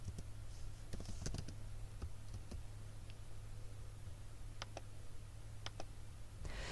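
Code being typed on a computer keyboard, with scattered soft key clicks in short irregular bursts over a steady low hum, fairly quiet and close, no talking.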